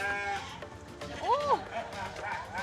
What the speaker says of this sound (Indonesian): ini kambing yang sudah ditimbang tadi kita mau coba bawa ke tempat pemotongan di sana tuh